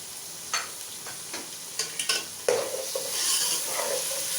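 Chicken fried lightly in a pan and stirred, with several distinct scraping strokes of the spatula over an increasingly loud, close sizzle.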